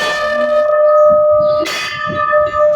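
A metal bell at a Sai Baba temple rings loud and close, its long ringing tone sustaining with a second strike partway through, over quiet surroundings.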